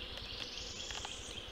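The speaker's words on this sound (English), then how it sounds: "They are super, super lot of bees. I mean, there is a lot of bees" Honey bees hum in a bee nuc during hive installation, a close, continuous buzzing drone with individual bees whining past, fairly quiet overall.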